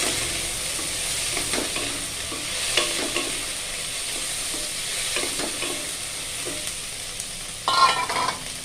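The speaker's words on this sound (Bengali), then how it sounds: "All vegetables now I am frying. সব সবজিগুলো ভেজে নেব।" Potato and carrot pieces fry in a pan with a steady broadband sizzle, broken by repeated scraping stirs and a sharper, louder burst of crackle near the end; no one speaks.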